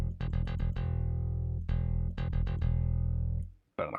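A bass guitar plugged straight in by direct input with no amplifier, a riff of quick repeated plucked notes in two bursts with a brief gap, clean and dry, ending in a short pause and a faint noise.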